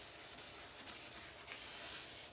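Hand sanding of a thick, yellowed plastic headlight lens from a Subaru Impreza Spec C, a steady close-up abrasive rubbing with a few brief sharper strokes, no voices.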